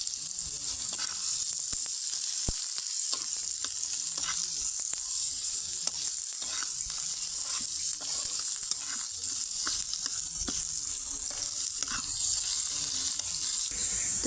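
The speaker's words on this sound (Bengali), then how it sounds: "এখন দিয়ে দিচ্ছি পেঁয়াজ কুচি, রসুন কুচি দিয়ে ভালো করে পেঁয়াজ আর রসুনটা ভেজে নিব" Chopped onion and garlic fry in hot oil in a wok for a tomato chutney, giving a steady, loud sizzle with light crackles and occasional stirring scrapes throughout.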